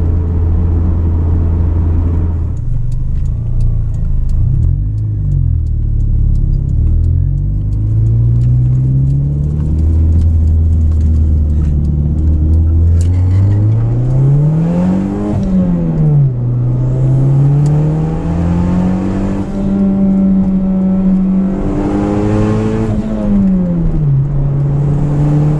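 A turbocharged car engine pulls hard under boost with a Greddy Profec boost controller set near 14.5 psi, its loud continuous note climbing and falling through several gear pulls with no talk over it.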